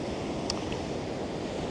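Ocean surf washing steadily on a grey, overcast day, a continuous broadband roar of waves with wind noise, no distinct breaking crash, heard alone without speech.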